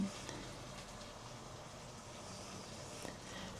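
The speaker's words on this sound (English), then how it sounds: "I'm going to give this a good stir." Food simmering in a pot over medium heat is stirred, with a soft continuous bubbling sizzle and faint utensil movement, fairly quiet throughout.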